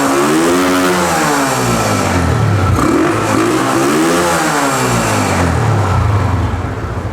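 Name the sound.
motorcycle engine revving with mini 125 air filter fitted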